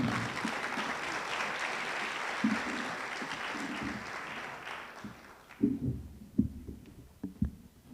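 An audience applauds to welcome a speaker at an academic ethics research seminar, broad steady clapping filling the first five seconds before thinning out, with a voice coming in near the end.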